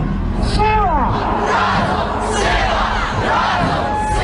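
A protest crowd chanting together in loud, continuous unison, with rising and falling shouted tones carrying through the whole stretch and voices blending into one mass.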